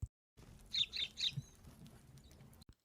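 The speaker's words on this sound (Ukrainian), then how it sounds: "горобець цвірінькає" A sparrow chirps in a quick burst of three bright tweets, then falls quiet over faint low background noise.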